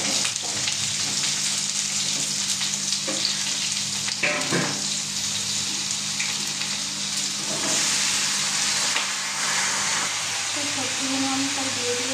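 Vegetables hit hot oil already tempered with a dried red chili and black cumin, giving a steady broadband sizzle that runs throughout with a few brief clinks and stirs, and a low hum underneath.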